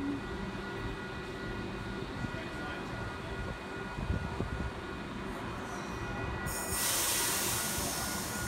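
A passenger train pulls out of a station with a steady rumbling roar and rising hiss of wheels on rails, ending in a brighter high screech, continuous and close.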